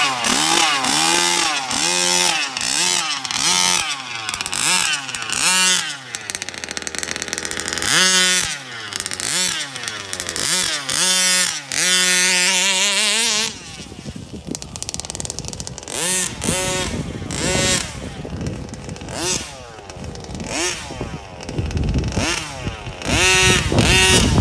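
A Rovan 29cc gas-engine RC car, a Rampage XT, runs in a backyard. Its small two-stroke engine screams through repeated rising and falling revs, loud and close, with rougher sputtering bursts in the second half.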